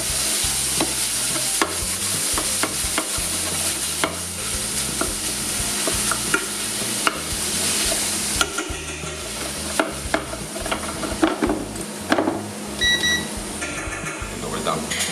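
Lamb coratella sautés in a pan with a loud, steady sizzle, broken by repeated scraping and stirring knocks; a few faint beeps sound late on.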